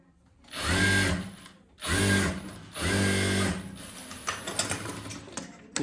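A sewing machine stitches a leg seam in three loud, steady runs separated by short pauses, then gives way to quieter mechanical clatter and handling noise, with no voices.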